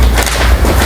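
A single shot from a Predator Rinjani full-CNC PCP air rifle: one loud, close, dull boom filling the whole brief moment.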